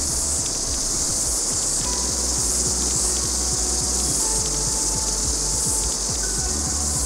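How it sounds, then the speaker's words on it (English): Cicadas in a line of willows beside a river keep up a dense, continuous high-pitched drone, steady and loud from start to finish with no voices. "we came upon a line of willows alive with cicadas"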